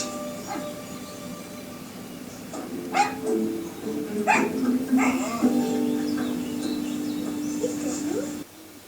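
A dog whimpers and yips in short bursts over a steady low hum, with a few sharper barks near the middle.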